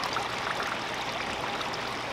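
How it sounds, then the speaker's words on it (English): Water drains out of the pot of a young date palm being readied for planting, a steady close broadband rush with no break and no voices. "Let that water kind of run out there,"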